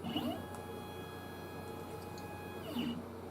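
A CNC router zeroes its bit height with a Carbide 3D bit setter, giving a quiet, steady motor hum with a faint whine and soft mechanical ticks, then a brief louder burst at the end.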